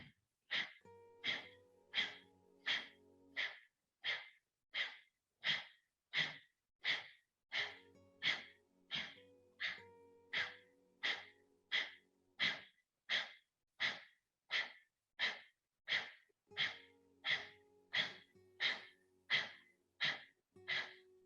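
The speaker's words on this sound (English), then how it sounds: "36 breaths of fire, if you can." Breath of fire yoga breathing: a long, even run of about three dozen sharp, forceful nasal exhalations at a quick steady pace, close and clear, with a faint tonal background and no speech.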